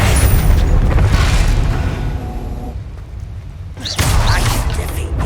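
A Bombarda spell detonates in Hogwarts Legacy with a loud, close boom that dies back briefly and then surges again in a second rumbling blast, with no voices.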